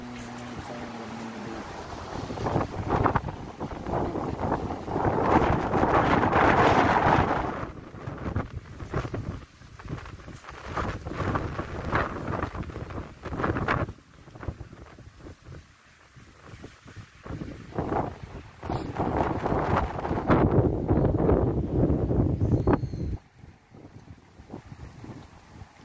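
Strong wind gusting over a fish pond, heavy buffeting rumbles that rise and fall across the whole stretch, loud and close against the microphone.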